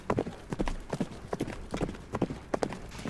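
Horses' hooves clip-clopping in a steady, even rhythm, each step a crisp distinct knock, moderately close and continuing throughout with no talk.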